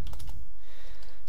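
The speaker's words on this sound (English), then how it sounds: "Sorry, my typing's a bit slow today." Computer keyboard typing in a short burst of several quick, close keystrokes, then a brief quiet tail with faint room hum.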